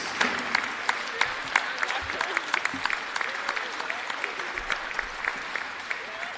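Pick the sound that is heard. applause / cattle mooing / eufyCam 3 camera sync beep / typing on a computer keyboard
applause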